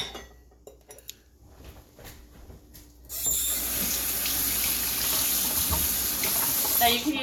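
Spoon rinsed under a running kitchen tap, faint clinks of cutlery at first, then a steady rushing stream of water starting abruptly and continuing to the end.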